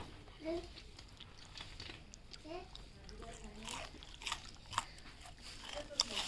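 Crunchy vegetable pakora being bitten and chewed, with several crisp crunches scattered through the clip, close up. A child and an adult talk and murmur in the background during a light rain.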